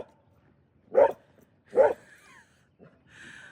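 A dog aboard a boat gives two sharp barks about a second apart at dolphins, fairly close, followed by a softer yip and a faint whine.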